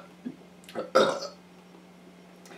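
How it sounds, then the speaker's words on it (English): A single burp from someone with indigestion sounds close and fairly loud, preceded by brief vocal noises, then quiet. "I'm gonna burp."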